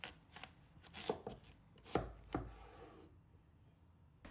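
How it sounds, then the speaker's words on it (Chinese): A knife cutting a washed, dried watermelon in half, a series of close crunchy slicing thuds through the rind, the heaviest two near the middle, then quiet. "将洗净擦干的西瓜对半切开，露出鲜红饱满的果肉"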